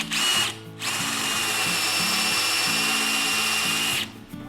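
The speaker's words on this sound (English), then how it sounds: "Let's get our little countersink bit again and drill that hole out." A power drill with a countersink bit bores into wood, running in steady whirring bursts with brief pauses, close and loud with no talking.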